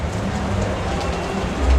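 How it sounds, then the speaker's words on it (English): Heavy Florida rainstorm pouring down steadily outside a home, a dense, continuous hiss of rain with a low rumbling swell near the end and no voices. "And the rain has arrived."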